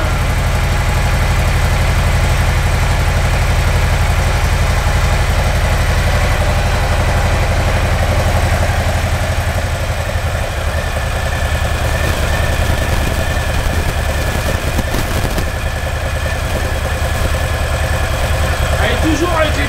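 A Yamaha Royal Star 1300 V4 motorcycle engine idling close by, a loud, steady low throbbing rumble that holds evenly throughout, with people talking faintly over it.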